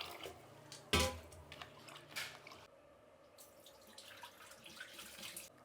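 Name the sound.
water running while washing soaked ingredients in a vessel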